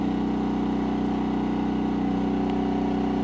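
A MaXpeedingrods MXR4000GT dual fuel generator runs under a load of about 1400 watts, its engine a steady, loud, close drone with an even throbbing pulse and no talking.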